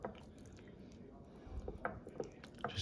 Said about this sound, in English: I'm gonna use my hands to smooth this marinade all over the meat